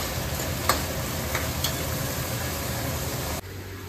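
Chopped onions frying in a pan for a potato curry: a steady close sizzle with a few light clicks of stirring, cutting off abruptly near the end.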